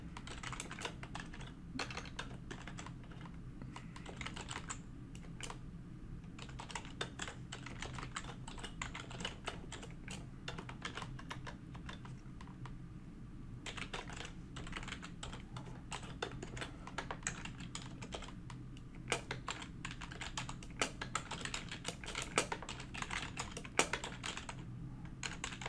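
Steady, quiet clicking of a computer keyboard as code is typed, with continuous rapid keystrokes over a low background hum and no pauses of note.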